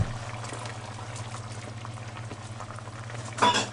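Red beans go into a stew that has been simmering for half an hour in a cast-iron pot, giving steady low bubbling with a brief splash of liquid near the end, no talking.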